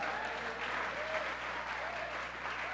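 A church congregation applauding during a Sunday service, steady sustained clapping from many hands throughout, with a faint voice underneath.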